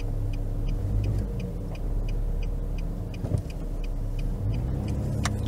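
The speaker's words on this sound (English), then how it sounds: "That big truck's coming." Road traffic on a small-town street in Greenville, Georgia, with a big truck approaching as a steady low engine rumble and tire roar, a brief louder swell midway, and no talking.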